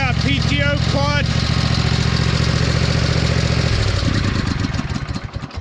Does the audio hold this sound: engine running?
yes